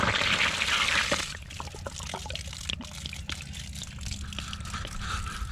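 Rainwater from a 275-gallon tank, filled by about an inch of storm rain and fed through a downspout diverter, runs out of a hose nozzle in a steady, close pour that starts loud, then settles into a softer trickle with light drips.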